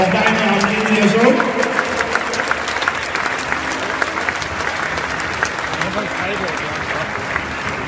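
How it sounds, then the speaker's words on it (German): Loud, sustained applause from a stadium crowd at 1. FC Magdeburg's player presentation, greeting a newly introduced football player, with steady clapping across the whole stretch and a swell near the start. "aber dafür ist der Applaus dann vielleicht auch umso länger"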